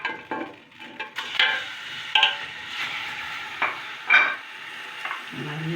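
Tripe is stirred in a shallow pool of oil, a light sizzle broken by repeated scraping strokes and soft clatters of a spoon against the pan, close and moderately loud.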